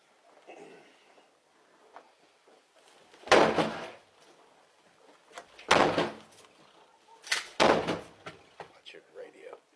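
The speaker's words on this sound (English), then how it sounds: "We're going to kick your door open." Police kick a door open: three loud, heavy thuds a couple of seconds apart, each sharp and booming, with quiet talking and shuffling between them.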